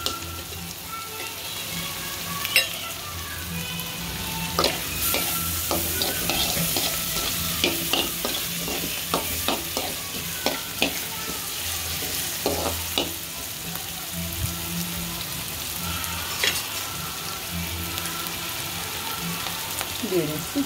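Chopped garlic and ginger paste stir-fried in hot oil for vegetable fried rice, a steady loud sizzle with repeated scraping and clinking of a spatula against the pan, close up.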